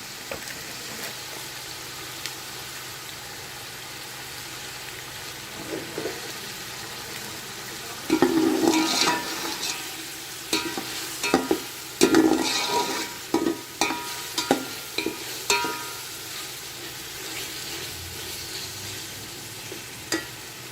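Beef yakhni pulao base fried with biryani masala in a pot, a soft continuous sizzle that grows busier midway as a spoon stirs and scrapes repeatedly, close up.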